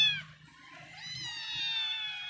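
A cat in a Filipino household, one of four cats taken in, meows in a few drawn-out calls, fairly close and clear over a quiet room, with no talking.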